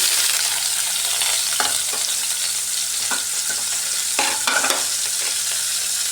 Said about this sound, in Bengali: এবার এর মধ্যে ঝিঙ্গেটাও ফ্রাই করে নিচ্ছি।